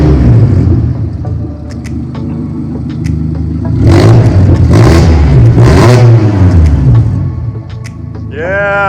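A Mazda ND Miata engine with no exhaust fitted idles loudly and raw, then revs hard in a few sharp bursts before settling back to a rough, clattering idle.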